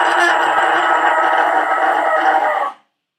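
A screaming vocal using vocal fry and diaphragm support, a continuous harsh, distorted, raspy tone held loud and close for nearly three seconds before stopping abruptly.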